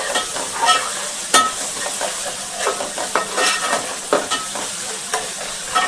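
Ginger garlic paste fries in hot oil for a small-fish tamarind curry, a loud continuous sizzle with frequent stirring scrapes from a spoon, close and without voices.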